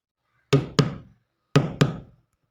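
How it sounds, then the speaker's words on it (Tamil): Someone knocks on a door in two sharp double raps, close and loud, separated by a second of silence. "கதவு தட்டுற சத்தம் கேக்குதாடா"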